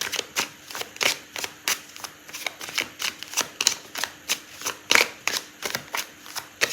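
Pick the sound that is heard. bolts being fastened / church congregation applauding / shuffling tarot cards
shuffling tarot cards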